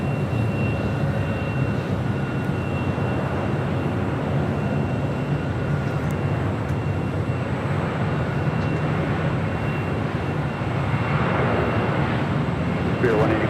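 A Volaris Airbus A320neo arrives at Los Angeles International Airport, its engine roar a steady broadband rumble from a moderate distance throughout, mixed with talk and radio chatter.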